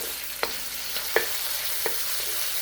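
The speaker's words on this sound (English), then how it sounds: "We want to cook the bacon so that it's crispy yet chewy at the same time." Bacon frying in a pan with a little olive oil, a steady hiss of sizzling fat broken by a few sharp crackles and pops spaced irregularly, close and moderately loud, without speech.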